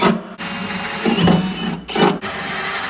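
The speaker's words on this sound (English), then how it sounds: "Let's get that drilled out." A drill with a 262.5 bit bores out a hole in a VW bus panel during a Subaru engine swap. The motor whines loudly and steadily with two short breaks and changes in load, close by with no talk.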